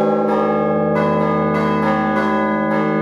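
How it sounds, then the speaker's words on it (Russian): Church bells rung by Voronezh bell ringers peal continuously and loudly, several bells layered in a steady sustained chime with repeated strikes throughout, no voices. "Колокольный звон исходит от души."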